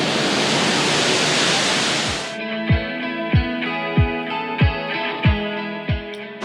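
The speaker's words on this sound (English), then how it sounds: "This is the world's largest indoor waterfall." The world's largest indoor waterfall at Jewel Changi Airport in Singapore gives a loud, steady rushing roar for about two seconds, then cuts off abruptly as music with a thumping beat takes over.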